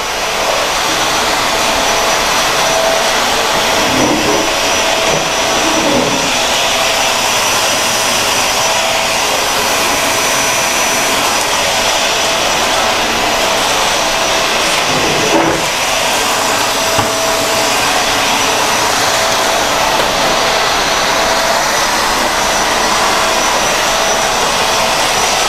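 A Eureka Floor Rover Pet vacuum cleaner runs continuously with a loud, steady, high-pitched whooshing roar of strong airflow. Only faint bumps break the sound.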